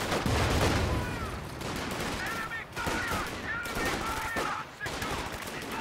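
Pack howitzer shots ring out over a continuous din of gunfire and explosions in a real-time strategy battle against a garrison, with a voice talking faintly under the combat.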